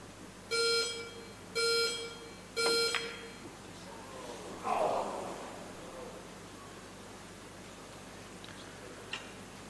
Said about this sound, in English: The beeps of the clock came in.